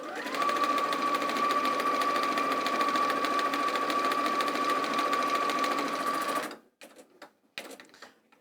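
A sewing machine stitching fabric at close range, a fast, even motor whir with rapid needle clatter held for about six seconds before it stops, followed by a few small clicks and handling sounds.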